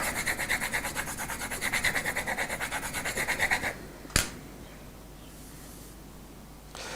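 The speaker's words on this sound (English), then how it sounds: "Just take your knife and just rub it over your pencil like that." A knife blade rubbed back and forth over a pencil's graphite lead, a close, steady rasping scrape in quick repeated strokes for several seconds, then it stops, followed by a single sharp click and quiet room tone.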